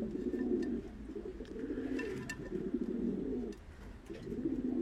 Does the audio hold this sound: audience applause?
no